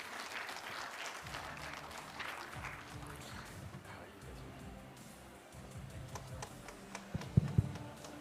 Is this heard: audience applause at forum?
yes